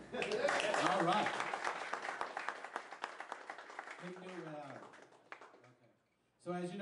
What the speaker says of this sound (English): a round of applause to Tony Scarlatos and Charlie Rich, who did the banner today.